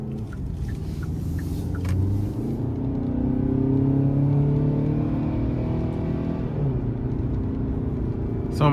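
A 2023 Hyundai Santa Cruz SEL pickup with a naturally aspirated 2.5-liter Smart Stream four-cylinder drives on the road, its steady engine drone and low rumble rising slightly as it pulls, heard from inside the cabin.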